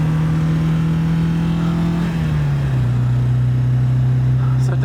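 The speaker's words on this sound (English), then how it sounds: "start accelerating out of the loop into third gear" An MGB-GT accelerates hard out of a loop on the Silverstone circuit, its engine drone loud and steady, then dipping briefly as it shifts into third gear before pulling on again close by.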